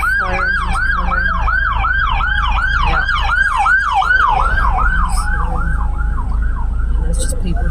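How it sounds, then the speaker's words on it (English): Fire engine sirens wail in steady repeating up-and-down sweeps at a fatal fire, loud and continuous over traffic noise, with a brief spoken word from a nearby person. "Some more fire engines coming."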